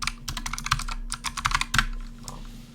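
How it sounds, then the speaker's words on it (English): Rapid clattering keystrokes on a computer keyboard as a command is entered, an uneven burst of close, crisp taps with brief pauses between clusters. "so if you type .ic add and whatever block"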